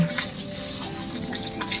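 Steady hissing spray of water running continuously onto garden plants, close and fairly loud, with no voices.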